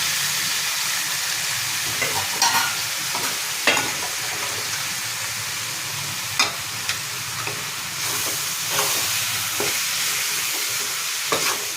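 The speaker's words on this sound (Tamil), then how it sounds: "அந்த முள்ளங்கியை வந்து உள்ளே போட்டு வணக்கணும்" Sliced radish sautéing in a pan for chutney, a steady bright sizzle running throughout, punctuated by several sharp scraping clicks of stirring at irregular intervals.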